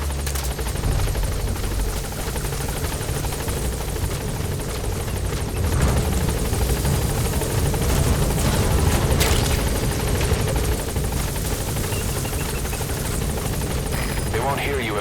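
Support helicopter from Metal Gear Solid V arriving at a landing zone: a steady, loud rotor drone with low thumping fills the whole stretch, swelling slightly midway, with game radio voices talking over it.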